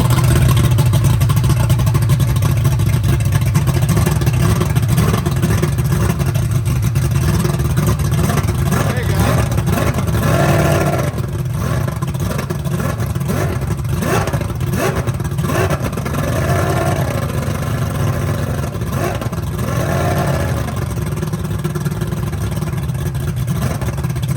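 A loud two-stroke boat engine roars steadily for the whole stretch, throwing a rooster tail for a gender reveal. The engine rises and dips in revs, with voices faintly beneath the din.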